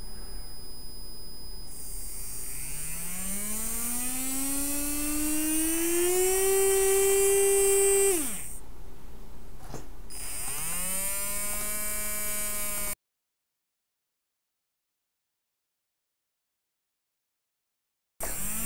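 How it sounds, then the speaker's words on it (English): DC motors driven by an ESP32 board through an L298N motor driver whine as they spin up, pitch sliding steadily upward before cutting out, then a second rising run, followed by a long stretch of complete silence. "One motor is now running."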